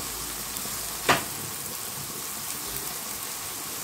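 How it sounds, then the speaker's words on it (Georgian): Ingredients go into hot oil in a frying pan, giving a quiet, steady sizzle with one brief sharp clatter early on. "ტაფა გავაცხელე, ზეთიც დავასხი, ახლა დავყრი და მოვთუშავ ამ ყველაფერს"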